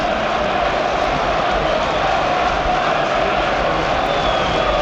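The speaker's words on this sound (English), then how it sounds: "on their feet, applauding and chanting, and pretty happy with how their team has performed in the opening 28 minutes" Away Newcastle United supporters at a League Cup semi-final against Arsenal applaud and chant, a dense, steady crowd roar filling the stadium without pause.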